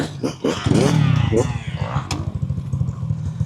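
An electric enduro motorcycle whirs and surges as it accelerates on a dirt track, the motor close and fluctuating under someone speaking throughout.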